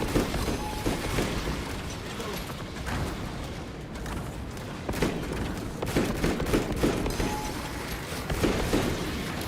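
Rapid, continuous gunfire with dull impacts from the game Space Marine 2, a dense unbroken battle roar that swells and dips with no clear pauses.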